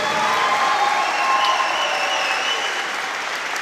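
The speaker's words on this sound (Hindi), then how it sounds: "जरा एक बार कोशिश करते, देखते तालियां कैसी बजती है, जोर से।" An indoor audience at a Christian talk claps loudly and steadily, a dense, sustained round of applause lasting the whole stretch with no pauses.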